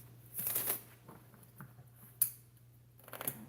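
A deck of cards is shuffled in several short riffling bursts, close and soft, separated by quiet gaps with a sharp snap partway through.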